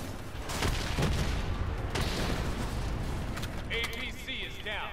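Video game combat in a hangar battle against an APC and a VTOL: rapid bursts of gunfire and booming explosions pile up over several seconds, with radio-style voices talking through the chaos.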